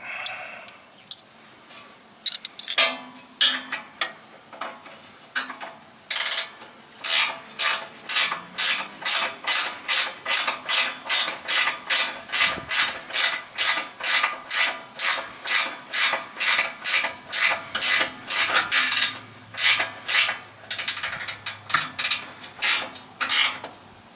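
A bolt being tightened on the shear pin of a John Deere 37A snowblower: a steady run of rhythmic ratcheting clicks, close and fairly loud, repeating for about twenty seconds with no talk.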